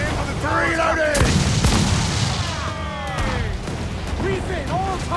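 Ship cannons boom in Assassin's Creed 4: Black Flag during a naval battle. A couple of heavy blasts land close together amid continuous battle noise, under shouted crew voices.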